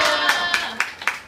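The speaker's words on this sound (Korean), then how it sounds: "고생하신 승현 선생님에게 박수 한번 주세요." Applause for a protester: a handful of loud, close hand claps in a quick, fairly even rhythm, over in about a second.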